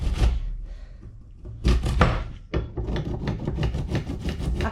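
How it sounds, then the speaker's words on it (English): Cucumber rubbed across a grater in a home kitchen, irregular raspy scraping strokes in short bursts, a pause, then a quicker run of rhythmic rasps, close and fairly quiet. "all I'm going to do is grate a little bit of cucumber"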